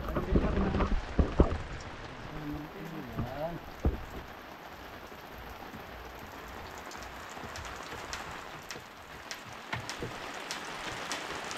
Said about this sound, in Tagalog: Ay, lumurok na ang ulan, mga kasoyo.